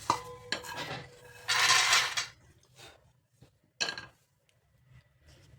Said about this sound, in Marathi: फ्राय झालेले आता काढून घ्यायचे